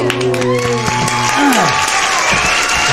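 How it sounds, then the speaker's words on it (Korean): A studio audience claps for a fitness comedy show, with steady, dense applause filling the whole moment and musical tones and a voice layered over it. "박수"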